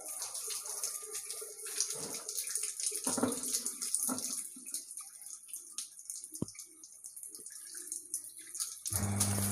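Municipal corporation supply water runs in after a valve is reopened, a soft, uneven rushing and splashing that surges and fades in bursts, fairly quiet, before a low steady hum starts near the end.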